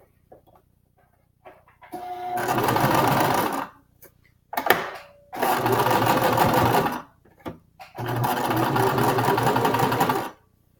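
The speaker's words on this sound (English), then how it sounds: "I'm not gonna talk while the sewing machine's going" A sewing machine stitches in three steady bursts, each running a couple of seconds with short pauses between, loud and close, with no talking.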